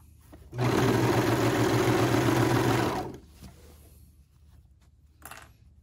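A sewing machine runs steadily for about two and a half seconds, stitching fabric for kimono-style sleepwear, loud and close, then stops abruptly, followed by quiet handling noises.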